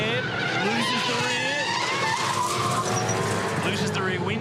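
A race car's tires squeal and skid steadily as the rear steps out and the car runs onto the grass in a crash, with engine noise and a commentator talking over it throughout.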